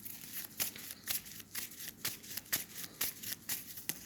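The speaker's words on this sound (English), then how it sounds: "Let's pull another card." Tarot cards being shuffled, a steady run of crisp, papery riffles and snaps repeating about every half second, close and fairly quiet with no talk.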